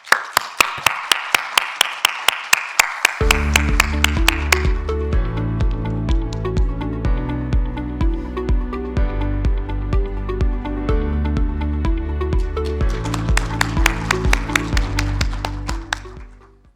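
An audience at a Korean university association's general assembly and presidential inauguration ceremony claps to welcome a speaker: a few sharp claps, then steady rhythmic clapping over music that sustains to the end.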